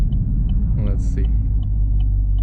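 A 2017 Chevrolet Camaro SS 1LE engine idles with a steady, deep low rumble, held at constant revs, loud and close throughout with no clear change in pitch.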